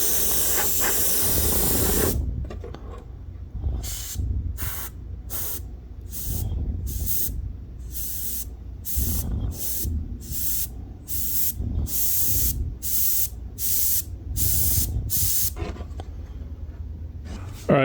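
A Harder & Steenbeck Infinity airbrush with a 0.4 millimeter needle setup hisses steadily, then fires a long series of short, rhythmic spray bursts separated by brief pauses, close and loud.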